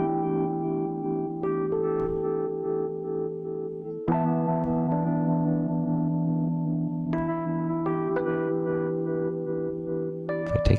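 Rhodes electric piano thickened with the UBK-1 plugin for extra mid-range density, sounding sustained, warm chords that change a few times with soft attacks, played alone without voices.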